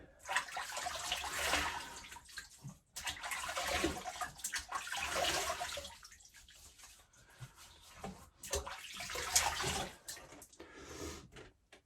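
Water splashing from a running tap as hands wet a face before a safety-razor shave, in close, irregular bursts of splashing and pouring with brief pauses, no talking.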